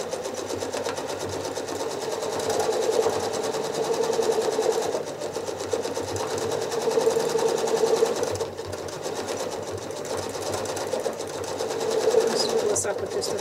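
A sewing machine stitches free-motion quilting lines in concentric circles, its steady motor whir and rapid needle chatter running continuously, close and fairly loud, with brief slowdowns between bursts of stitching.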